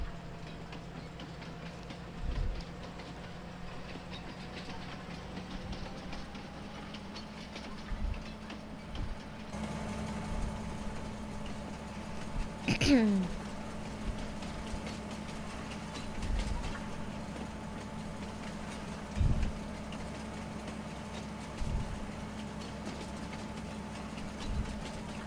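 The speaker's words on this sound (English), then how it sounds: "if you're driving a train" A train engine in Farming Simulator 19 runs with a steady low idling rumble and faint hum, broken by occasional dull thumps and one short rising squeal, with no talk.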